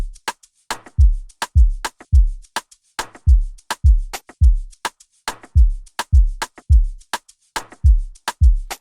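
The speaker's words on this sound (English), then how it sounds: "added an amapiano shaker just to give the groove that I was hearing" Amapiano shaker sample playing a steady looped groove, each hit a crisp bright shake followed by a short low thump, repeating evenly about twice per second with no voices.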